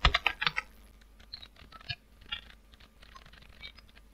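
Typing on a computer keyboard, with a quick cluster of loud, close key clacks at the start followed by lighter, scattered taps.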